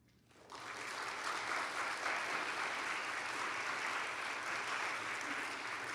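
Applause breaks out from an audience at an end-of-year convocation honoring Christian scholars in the performing arts, starting suddenly and holding a steady, fairly distant roar of many clapping hands.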